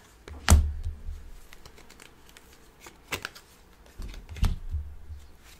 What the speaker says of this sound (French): Je vais remettre quelques cartes.